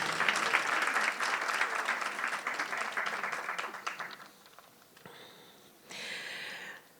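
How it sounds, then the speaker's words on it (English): A crowd applauds the judges at the 2017 GraceKennedy/Heather Little-White Household Workers Awards ceremony, a dense, loud burst of clapping for about four seconds that thins and fades into quieter room sounds. "A round of applause for our judges, please."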